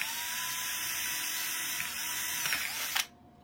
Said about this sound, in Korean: 요 리셋 버튼은 글루건으로 붙여줄 거니까 사이드에서 살짝 띄워가지고 구멍을 타공합니다